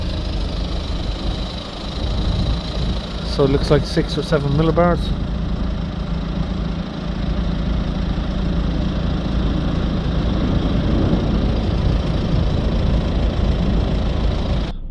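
A Ford Transit Courier diesel van engine idles with a steady low rumble throughout, while a person speaks briefly partway through.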